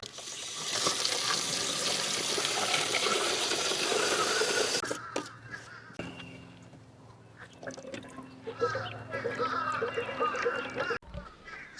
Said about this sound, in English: I'm gonna put a little bit of water in here and see if it holds